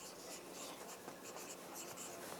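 A marker scratching across paper as a list is written during a second-grade writing lesson, a soft continuous scribbling with faint strokes, quiet and alone.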